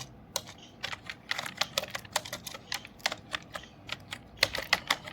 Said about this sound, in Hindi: जैसे मैं यहाँ लिखता हूँ अजय श्रीवास्तव